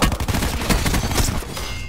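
Gunfire from the video game Call of Duty: Black Ops 4 roars in a loud, dense, continuous volley of overlapping blasts lasting about two seconds.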